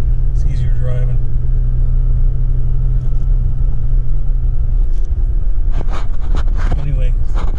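A vehicle drives on soft beach sand, its engine giving a loud, steady low rumble close by, with wind buffeting and brief bursts of noise late on.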